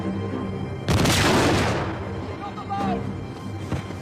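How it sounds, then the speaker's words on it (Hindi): A grenade blows up during Uncharted 4 gameplay, a heavy boom about a second in with a long rumbling tail, followed by fainter thuds later, while someone talks over the game. "चलो भाई, ग्रेनेड के साथ साथ वो भी फटेगा।"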